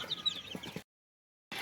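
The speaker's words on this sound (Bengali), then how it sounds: "এখানে মুরগির বাচ্চা আছে" Chickens and young chicks on a desi chicken farm give soft clucks and chirps from inside a cage. The calls are close and fairly quiet, stop suddenly, and pick up again after a short silence.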